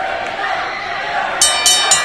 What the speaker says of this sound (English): Now you can hear this crowd as the opening bell